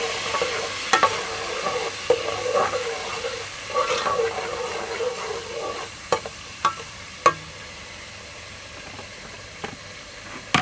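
Potatoes and capsicum sizzle and fry in a pan as water is poured in, with a steady hiss under intermittent sharp clinks of stirring.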